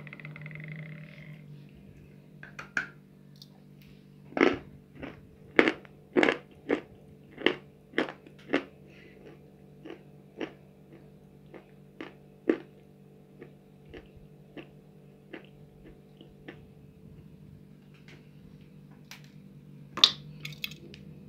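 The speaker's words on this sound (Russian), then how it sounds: "Глина твердая, хорошо хрустит." Hard edible clay, multicoloured with speckles, bitten and crunched close up: a run of sharp, crisp crunches spaced about half a second apart, with scattered softer crackles between them and nobody speaking.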